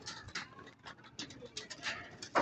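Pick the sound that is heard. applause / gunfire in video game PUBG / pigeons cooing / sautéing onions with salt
pigeons cooing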